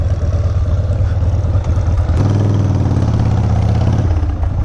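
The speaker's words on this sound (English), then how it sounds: "it's been idling fine here for a minute, so we're gonna ride it back home and just see how she does" A Harley FXR motorcycle engine idles close by, a steady loud lumpy rumble with a faint mechanical clatter and a brief shift in tone partway through.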